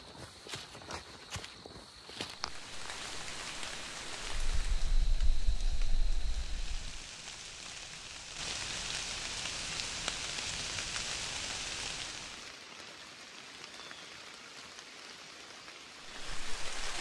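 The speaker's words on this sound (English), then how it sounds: "So the weather changed, but now it's supposed to rain for the next hour." Steady rain falls on hickory leaves under the woodland canopy, a continuous dense patter of drops with occasional louder bursts and low rumbles, no voices present.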